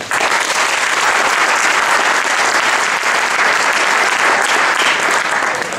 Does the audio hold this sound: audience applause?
yes